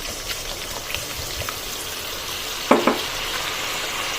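Steady hiss and crackle of water hitting hot oil for a tangra fish curry, sizzling continuously up close, with a couple of louder splashy bursts near the end.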